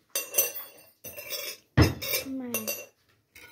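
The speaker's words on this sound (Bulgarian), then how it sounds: "мама слага приборите и точно чиниите и ще извадим сега приборите" Metal cutlery and plates being set down on a table at home, in short bursts of clinks and clatters with brief quiet gaps between, close by and without talk.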